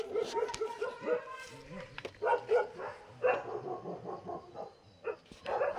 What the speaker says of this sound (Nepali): कुकुरले पनि ठुलो काम पो गर्यो त हौ भुकेर